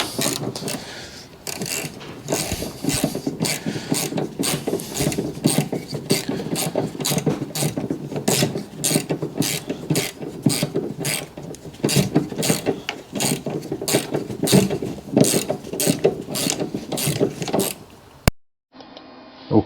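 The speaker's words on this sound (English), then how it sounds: "This is where you need the deep 10mm socket and a extension bar." A hand ratchet fitted with a deep 10mm socket and extension bar, working on a wiper motor replacement on a Fiat Scudo van; steady rapid clicking strokes repeat for nearly twenty seconds, close and loud, with no talking.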